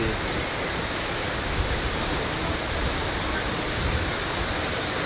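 The Five Falls waterfall at Courtallam roars in a dense, continuous wash of white noise, steady and enveloping with no pauses or voices.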